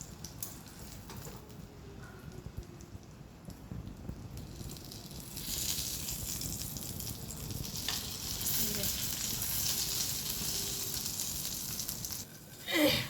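Eggplant slices coated in gram flour batter with chilli powder fry in hot oil with a steady, loud sizzle that swells louder in the second half, with some stirring clatter and a brief bump near the end.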